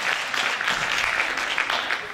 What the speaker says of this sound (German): Dankeschön, Applaus.